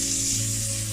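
Guanciale fries in a pan with a loud, dense, continuous sizzle, close up and alone.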